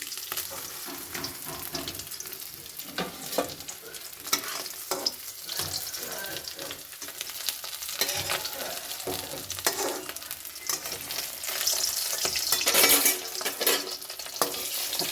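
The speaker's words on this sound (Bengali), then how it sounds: "মাছ ভাজা, 4টে মাছ ভাজা হয়ে গিয়েছে" Phasa fish fry in hot oil in a pan with a dense, constant sizzle and crackle, plus occasional spattering pops and faint utensil clinks, with no talking.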